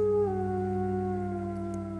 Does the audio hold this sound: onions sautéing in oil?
no